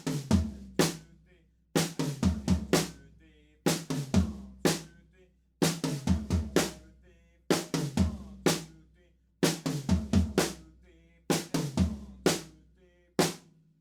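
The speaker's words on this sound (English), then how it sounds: "there's no kick drums, only snare drum, and a little bit of toms happening" Drums play a sparse repeating groove of snare hits with a few tom strokes, in short bursts separated by brief gaps, no bass drum, from the drum part of a song.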